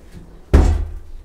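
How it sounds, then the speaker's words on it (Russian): A single heavy thud as a wooden door in a small mini-timber bathhouse is kicked, a sudden loud boom with a short resonant decay in a quiet room. "Тём, пни дверь"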